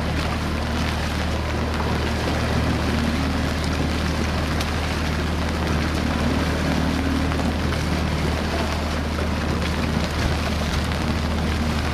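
Steady rain and gusting wind wash over an outdoor para-rowing outing on the water, a constant broadband hiss with a low rumble beneath, continuous and close throughout with no talking.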